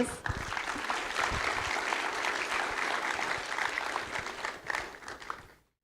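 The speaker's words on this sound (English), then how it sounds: "let's give PKMST another big warm round of applause." A seminar audience in Torajan traditional clothing gives a warm round of applause, steady broadband clapping that holds for about five seconds and then tapers off.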